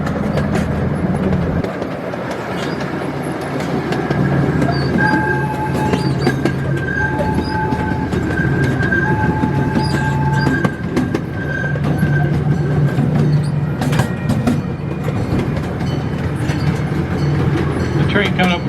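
A miniature train at the National Museum of Transportation in St. Louis rolls along with a steady rumble, rhythmic wheel clatter and occasional squeals, sounding close and continuous throughout.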